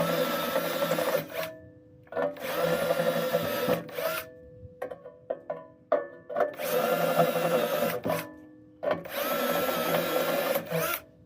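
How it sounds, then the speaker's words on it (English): A power drill turns a Harbor Freight step bit to widen the existing holes in a Cub Cadet zero-turn mower's muffler, grinding in three long bursts separated by short pauses filled with small clicks and clanks. "I'm going to take my Harbor Freight step bit and just kind of"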